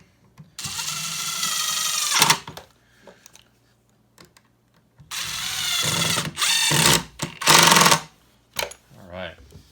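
Power drill driving screws into a utility table during assembly, two bursts of loud whirring with a ratcheting bite at each end, separated by a quiet pause.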